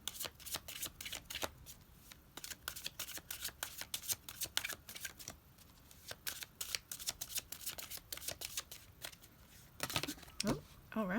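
Tarot cards being shuffled in repeated crisp riffling bursts close to the microphone, faint overall, with a brief spoken murmur near the end.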